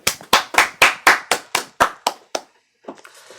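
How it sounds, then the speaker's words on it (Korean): About ten sharp claps in a quick, even rhythm at a Sunday church worship service, close and loud, then a brief soft rustle after they stop. "하나님께 영광의 박수 올리겠습니다."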